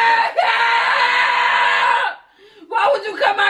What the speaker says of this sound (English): tell her why we filming her, because she's screaming